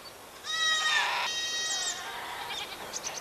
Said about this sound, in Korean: 그런 염소가 어느새 일흔 마리가 됐습니다